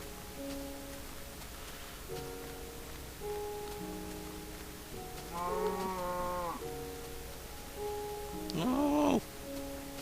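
Cattle lowing in the blocky sandbox game BAScraft, two drawn-out moos, one in the middle and a louder one near the end, over soft background music notes.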